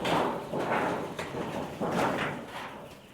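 Metal sheet sliding along a chicken shed, a few repeated scraping, rumbling drags in broad surges, fairly close and moderately loud.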